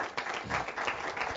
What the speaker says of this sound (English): if you could give another round of applause, please